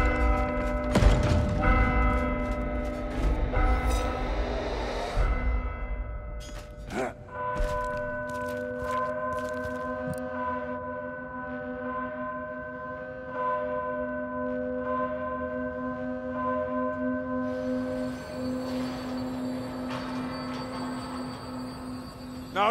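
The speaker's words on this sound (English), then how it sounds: "Right, ring the bell." Church bell ringing in the video game Vermintide 2, a heavy clang followed by a long, sustained humming ring that lingers and slowly fades, with mechanical creaks early on.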